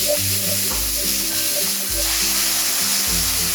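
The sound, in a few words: mushrooms (button, shiitake) stir-frying in a pan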